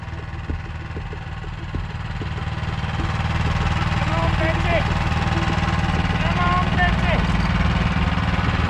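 A snowblower engine runs steadily and close while the machine is driven slowly across plywood, its low rumbling drone growing slightly louder, with a voice faintly audible over it.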